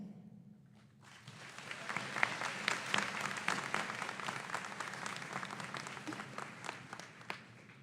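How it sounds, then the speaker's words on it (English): A large crowd at a high school commencement ceremony bursts into steady, sustained applause that swells after a quiet start and holds at a dense, even roar of clapping. "please join me in reciprocating the applause to the people that helped you get here today"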